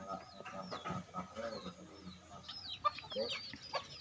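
Chickens cluck and call softly in a rural yard, with several short, scattered clucks and a few sharper squawks rising over faint background noise.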